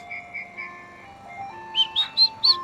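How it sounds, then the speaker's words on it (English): An ice cream truck plays its jingle, a tinkling melody of bright tones heard from moderately close and rising into four louder chiming notes at the end. "The ice cream truck."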